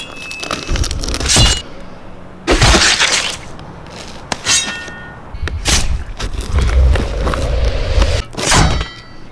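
A cardboard box holding a bike is handled and opened, with loud thumps, scrapes, and rustling cardboard tearing in irregular bursts close by.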